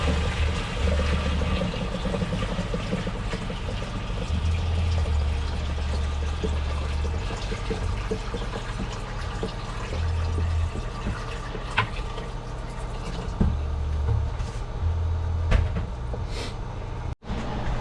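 Water running steadily into the reservoir of a deep water culture grow box in a V-Grow setup, a continuous low pouring rush with faint splashing, fairly close and unbroken for the whole stretch, no talking.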